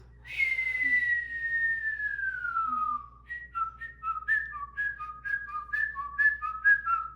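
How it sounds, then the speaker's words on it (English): A person whistles a long descending note, then a quick series of short, bright chirpy whistled notes, close and clear. "Do you want me to whistle?"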